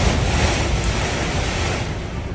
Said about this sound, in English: The wind is rocking the house from side to side.